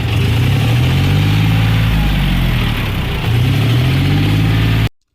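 A loud diesel tractor engine, running on a new battery, idles steadily, a deep rumbling throb close by, cutting off abruptly at the end.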